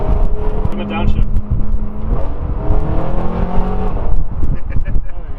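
A BMW M3 E92 fitted with a custom H-pipe exhaust rumbles and revs loudly at close range, its engine note rising and falling across the clip while a person talks over it.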